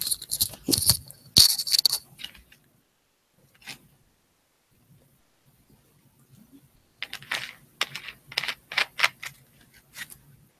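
Close keyboard typing comes in two quick clusters of light plastic key clicks, one at the start and one near the end, separated by a long stretch of near silence.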